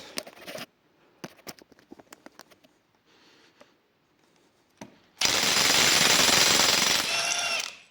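A Ryobi RIWH18X One+ 18V cordless impact wrench, rated 1600 Nm and set to mode 1, hammers in a loud, continuous rattling burst lasting about two seconds, preceded by scattered clicks and taps.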